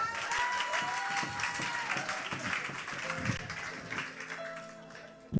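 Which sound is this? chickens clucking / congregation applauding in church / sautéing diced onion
congregation applauding in church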